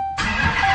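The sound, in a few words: Dodge Hellcat engine starting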